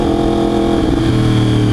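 A 2023 Yamaha R1 motorcycle with a cheap aftermarket exhaust roars loudly up close as it accelerates, its pitch rising in a short, continuous burst.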